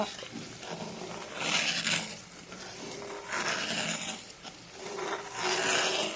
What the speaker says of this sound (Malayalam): നന്നായി യോജിപ്പിച്ച ശേഷം ഇളക്കി കൊടുക്കുക.